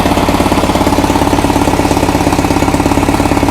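A motorcycle engine runs in first gear with the wheel turning, giving a loud, close, rapid pulsing chug that stays even and steady throughout.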